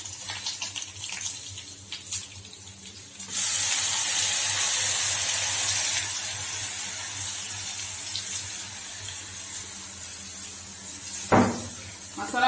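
Onions, dried chillies and spices sizzling in hot oil for a Tamil kulambu: a steady, close, bright frying hiss surges loudly and then settles, with quieter clatter before and a brief knock near the end.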